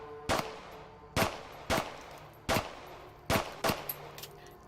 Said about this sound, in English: So you can also just kind of shoot with these normal